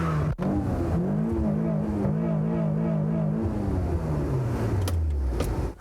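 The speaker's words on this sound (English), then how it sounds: "My performance exhaust. I'll let you hear it for a second here." A car's performance exhaust rumbles and revs loudly, the pitch swelling up and down through several blips before settling into a lower idle, with a brief click near the start and no talking.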